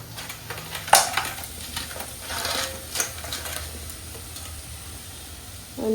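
Crab fries in masala in a pan, giving a continuous close sizzle with bursts of scraping and clattering as it is stirred, and a louder clank near the start; there is no talking.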